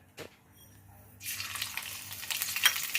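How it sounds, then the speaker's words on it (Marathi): A quiet start, then a sudden burst of crackling sizzle as cumin and mustard seeds hit hot oil, popping steadily for a couple of seconds. "जिरं मोहरी तडतडली की कांदा घालायचा"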